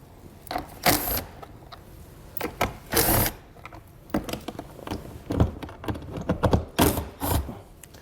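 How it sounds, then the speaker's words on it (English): A socket wrench with a 7mm socket backing out fasteners while a Roadmaster Direct-Connect base plate kit is installed on a 2022 vehicle, giving bursts of sharp ratcheting clicks separated by short pauses, close and fairly loud. "I'm going to use a 7mm socket to pull those out"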